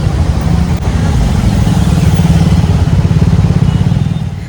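A two-wheeler scooter ride: the small engine drones steadily and loudly up close, mixed with rushing road and wind noise, with no clear gear changes.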